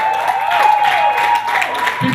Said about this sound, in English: Keep clapping till he gets up on stage